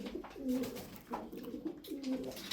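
Pigeons coo softly and repeatedly nearby, low rolling calls rising and falling in a steady rhythm against faint background noise.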